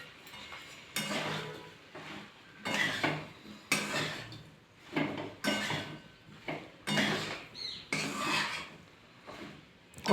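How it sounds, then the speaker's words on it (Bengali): Fried cauliflower being sautéed and stirred in a pan, with repeated scraping and rasping strokes of a spatula against metal in bursts of about a second each, close and moderately loud, with no talking. "এবার ভালো করে কষিয়ে দিয়ে দেবো ভেজে রাখা ফুলকপি।"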